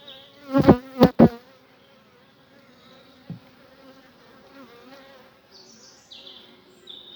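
Honeybees buzz inside an opened hive with a good queen present during a summer hive inspection, a few loud close bursts early on, then a faint steady hum with small clicks.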